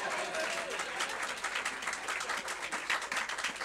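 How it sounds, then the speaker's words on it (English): Audience applause at a school groundbreaking ceremony for Eagle Academy PCS, a steady wash of many hands clapping at moderate level for nearly four seconds, with a voice faintly audible beneath. "I think we should give Jason another round of applause"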